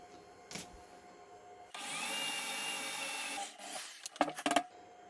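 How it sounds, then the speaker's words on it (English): A drill bores holes into a fishing tripod in a close workshop setting, a steady whining run of about two seconds followed by several short sharp clatters and bursts. "once the hole's drilled, you can't go back"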